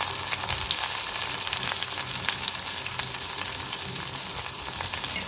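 Onions and dried red chillies sauté in hot oil for a lunch of dal rasam and potato fry, giving a continuous dense sizzle and crackle with faint stirring, steady and close, with no voices.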